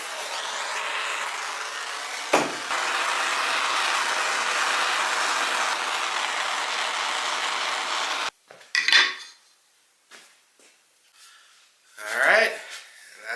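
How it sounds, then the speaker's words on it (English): Propane torch flame blackening the handle of a tomahawk made from a railroad spike, a steady loud roaring hiss lasting about eight seconds before cutting off, followed by a few faint clinks and brief noises. "we're going to go ahead and blacken the handle"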